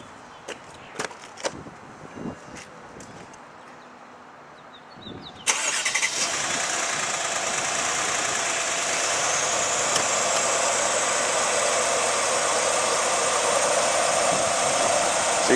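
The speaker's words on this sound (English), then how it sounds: "hey, it's not my pump, because my pump's working." On a Mercedes-Benz S550 W221, the air suspension pump kicks on after a few scattered clicks and clunks, then runs as a steady, loud electric whir that holds to the end.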